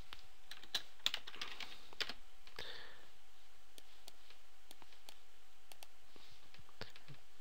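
Keys clatter on a computer keyboard in quick irregular bursts, a run of close, crisp clicks and taps with short pauses between them and no voices.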